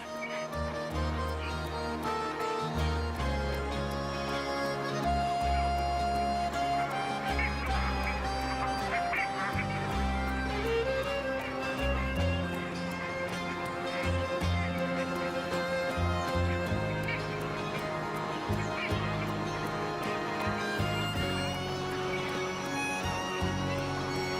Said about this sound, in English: Flock after flock of migratory birds arrive at the center of the city.